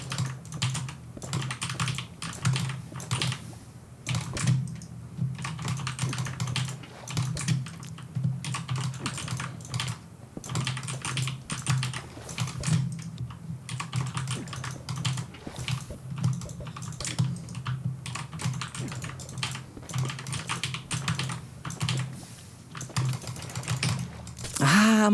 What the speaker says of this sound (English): Now you can hear my keyboard as well.